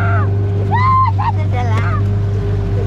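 A boat engine idles at a pier with a steady low drone and hum throughout, close and constant, while people talk over it.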